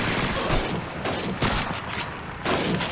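Rapid bursts of gunfire from the Call of Duty 2 Winter War Soviet campaign, with repeated loud cracks and machine-gun volleys fired close by in a steady, dense barrage.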